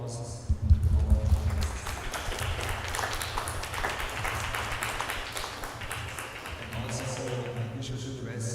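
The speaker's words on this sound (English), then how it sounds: "So big applause" An audience at a panel event applauds, a broad wash of clapping that swells early and then carries on steadily at moderate volume with no talk over it.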